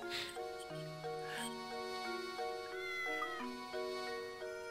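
Cartoon-style cat meowing from the puzzle adventure game Professor Layton and the Curious Village, a string of stepped, tonal meows in a steady run, clear and fairly loud with no talking over them.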